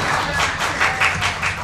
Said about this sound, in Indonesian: tepuk tangan buat Pak Eril, tepuk tangan yang ramai dong